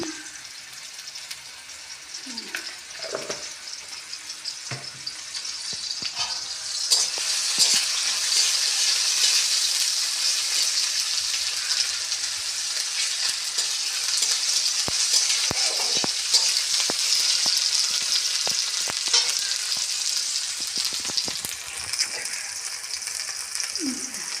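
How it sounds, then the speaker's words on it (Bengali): Tomato and onion fry in a pan with a continuous bright sizzle that grows louder after a few seconds, punctuated by occasional utensil clicks and scrapes. "টমেটো পেঁয়াজটা ভাজতে থাকুক।"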